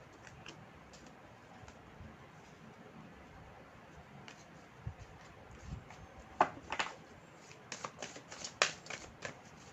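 Tarot cards from a second deck shuffled and handled, with soft papery riffles and a few sharper flicks and snaps clustered toward the end over a quiet room background.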